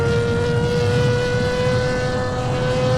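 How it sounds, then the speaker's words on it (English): Ferrari F12 Berlinetta V12 engine: a loud, sustained exhaust drone with a steady pitch, holding continuously at close range with no voices. "The symphony of its exhaust is like music, echoing through the winding roads"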